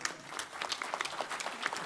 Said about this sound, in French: Merci Gérard, on peut l'applaudir.